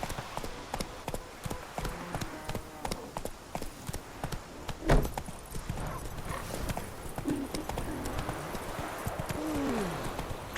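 A horse gallops with rapid, rhythmic hoofbeats in The Witcher 3, steady and fairly close, with a brief thud midway and a whinny-like sound near the end.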